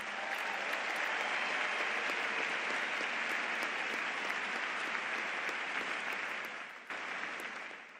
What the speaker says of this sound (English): I want to particularly would ask you if you could just give a round of applause to those